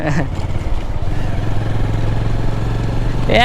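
A motorcycle rides along a mountain road in Bandarban, its engine holding a steady, near droning hum with wind rush, and a voice is heard briefly at the start and end.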